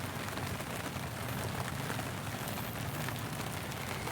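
Steady rain pours on a chili farm during picking, a soft, even hiss that carries on without a break and with no voices.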